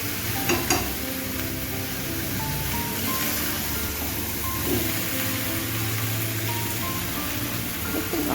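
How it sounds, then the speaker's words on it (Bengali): Amaranth stem curry stirred in a pan with turmeric and salt, a steady close sizzle with scraping and occasional clinks of the spoon throughout, and no talking. "একবারই হলুদ নুন দিয়ে নাড়তে শুরু করেছিলাম"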